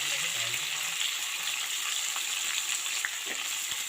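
Potatoes, tomato, onion, green chilli and garlic pieces for a sea-fish curry crackle and sizzle in a hot pan, a steady close frying hiss with occasional soft pops and stirring movement.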